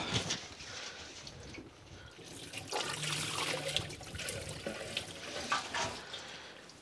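Liquid sloshing and trickling as cleaning fluid is poured into a grimy EGR or PCV part of a Rover 75, a steady watery pour near the microphone with a louder splash at the end.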